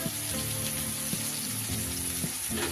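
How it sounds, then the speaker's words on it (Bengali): Ground dried fish paste dropped into hot oil with turmeric and Kashmiri chilli powder, sizzling and frying steadily with faint stirring scrapes, close and continuous, no talking. "শুটকি মাছটা দিয়ে দিলাম।"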